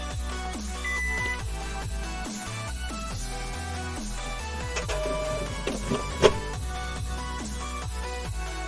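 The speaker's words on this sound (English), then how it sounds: "Print file with the help of printer" A printer runs through a print job with a continuous mechanical whir, repeated feed clicks and a rising and falling motor hum, steady and close with one sharper clack near the end.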